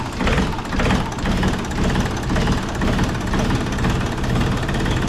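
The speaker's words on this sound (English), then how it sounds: "I'll show you guys real quick how nice this thing starts" A John Deere 4400 tractor's diesel engine runs inside a cold garage, a loud, close, continuous rumbling idle with a rough knocking pulse and no break.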